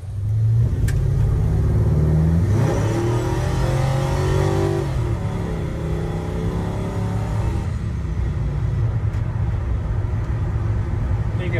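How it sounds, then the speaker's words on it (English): A 1967 Chevy C10 restomod pickup with a Vortec engine pulls away and drives off, its engine revving loudly and rising through the gears before settling into a steady cruising drone. "let's take this truck out for a drive."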